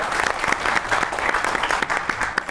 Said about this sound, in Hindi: इस पे ताली होनी चाहिए नूर के लिए।